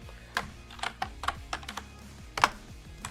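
Computer keyboard typing, close and fairly quiet, with irregular bursts of individual key clicks and a sharper, louder keystroke near the end, no talking.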